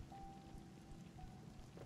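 Soft continuous rainfall on a boat at sea in Spiritfarer, a constant quiet patter with a faint low rumble and a thin tonal whine in the background.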